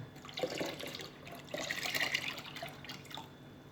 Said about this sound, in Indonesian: sudah tercampur rata, saya tuang ke dalam air